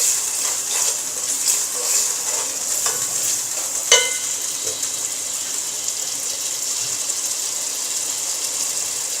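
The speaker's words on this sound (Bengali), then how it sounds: "এখন মশলাগুলো একসাথে মিক্স করে খুব ভালোভাবে একটু ভুনে নিব" Spice masala for a ridge gourd and hilsa fish stew is stirred and fried in a pan, giving a steady close sizzle broken by scraping, clinking strokes and one sharp knock partway through.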